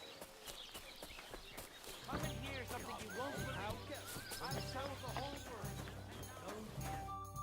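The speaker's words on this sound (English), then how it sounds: "Watch out with that horse." In Kingdom Come: Deliverance II, a horse's hooves clop steadily and a whinny rises over a crowded medieval scene. Voices and ambient bustle continue throughout at moderate loudness.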